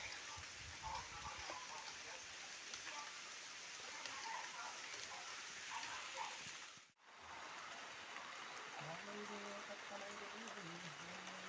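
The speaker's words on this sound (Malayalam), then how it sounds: "അത്യാവശ്യം ചെറിയൊരു മഴ പെയ്തുകൊണ്ട് നിൽക്കുവാണ്" Light rain falls steadily as a broad, continuous hiss through the whole stretch, with a brief dropout near the middle; a voice talks faintly over it in places.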